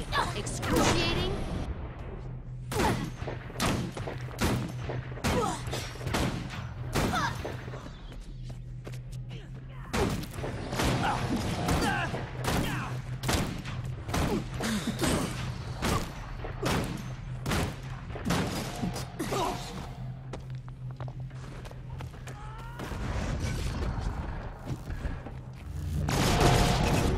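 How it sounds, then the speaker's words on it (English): Bomb blasts in Guild Wars 2, a long run of sharp explosive bangs and crashes at uneven intervals over a steady low hum, with a voice speaking intermittently between the hits. "Oh, bombs."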